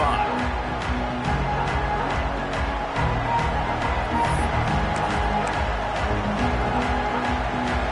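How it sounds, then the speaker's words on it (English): Dense stadium crowd roar from a College Football 26 game, a steady wash of cheering that swells as a drive starts, continuous and fairly loud with faint commentary-like voices woven through. "This crowd ready to make its presence known."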